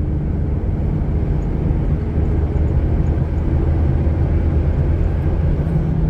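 A 1997 Toyota SW4 is driven along a highway, its engine drone and road rumble steady, loud and low, with no break from start to finish.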